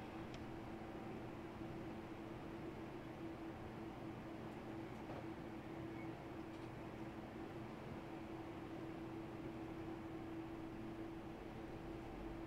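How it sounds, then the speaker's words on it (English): A train rolls past a level crossing in Train Simulator 2017/18, a loud steady rumble with a sustained droning tone throughout. Faint higher clanks come through around the crossing, and no horn can be picked out. "Watch the train come by."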